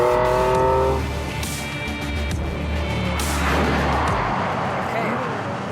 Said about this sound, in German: dass mir der Matthias erlaubt, dass ich mit dem Auto auch noch einen Drift hinlegen darf